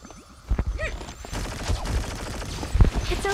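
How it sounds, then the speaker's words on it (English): Hualing's gunshots in T3 Arena come as rapid bursts of sci-fi gunfire, with scattered volleys and impacts building into a dense, close fusillade alongside other game sound effects. "See if we can't dodge some of these Hualing shots."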